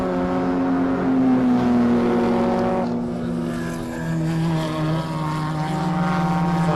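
Race cars, an E30 BMW and an Opel Corsa, battle on track during the Zwartkopanapolis 500 endurance race. A loud, sustained engine drone shifts pitch as the cars pass, with no voices.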